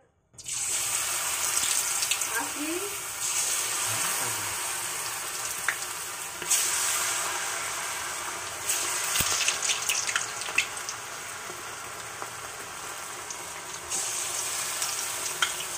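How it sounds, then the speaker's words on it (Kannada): Homemade kebabs dropped into hot oil: after a short silent start, a loud, sustained sizzle and hiss rises close by, broken by sharp crackles and spatters, with no voices. "ಎಣ್ಣೆ ಕಾದಿದೆ, ಕಬಾಬ್ ಬಿಡೋಣ"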